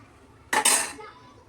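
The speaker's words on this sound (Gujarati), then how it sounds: "વાટકી ભરીને ખાંડ નાખી દઉં છું" A bowlful of sugar is tipped into a pot of kheer, a sweet rice pudding, giving one brief close rush of grainy pouring with a light clink of the bowl, then quiet room tone.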